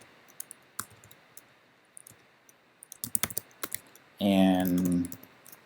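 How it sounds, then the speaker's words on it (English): Keys clatter in short, uneven bursts on a computer keyboard while text is entered on a teacher's web page, close and crisp. Near the end a voice briefly speaks over them. "I'm gonna type some information"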